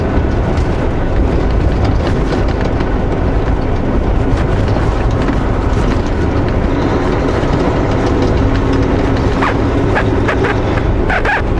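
A truck driving on the road, a loud continuous engine and road rumble heard from inside the cab, steady throughout with rattling and clunks.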